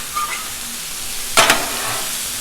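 85/15 ground beef sizzles on a Blackstone griddle: a constant, close frying hiss broken by one sharp scraping chop of a spatula against the flat-top surface.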